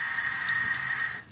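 Water runs steadily from a tap, flushing through the soil of an indoor potted plant into a sink drain, a constant close hiss that cuts off near the end.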